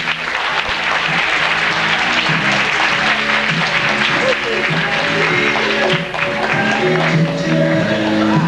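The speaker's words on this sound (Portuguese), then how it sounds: "Palmas para o presente." Studio audience at a 1996 Brazilian television variety show applauding continuously and loudly, with music and voices running underneath the clapping.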